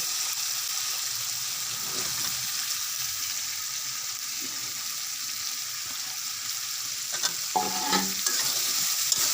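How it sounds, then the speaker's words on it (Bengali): Snake gourd being stir-fried with spices in a pan, a steady, close sizzle with scraping and stirring throughout, growing louder with a few sharper clatters of the utensil near the end. "চিচিঙ্গাগুলো মশলার সাথে ভালোভাবে মিশিয়ে নিব"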